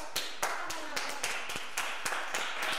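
A small lecture audience claps after a talk at the EURASIA 2022 session, sparse distinct handclaps in an uneven rhythm, fairly faint and roomy.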